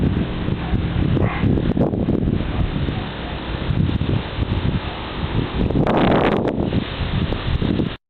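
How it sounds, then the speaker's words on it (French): Wind blows steadily across an outdoor live camera microphone in Caracas, a loud continuous rushing and buffeting with gusts swelling stronger near the end. "Il y a du vent"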